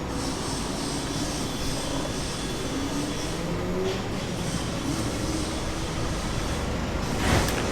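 A Nissan Skyline GTR R33 V-Spec fitted with HKS intakes and an Evolve radiator idles at a show, giving a steady, loud engine drone with a rushing airflow hiss, constant and unbroken, with no talking.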